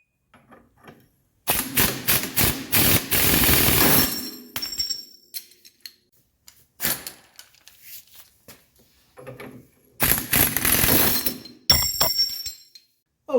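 Suspension linkage nuts broken loose on a 1982 Mercedes 300D: loud bursts of rapid metallic rattling and clanking from an impact tool, separated by silences and a few lighter clinks.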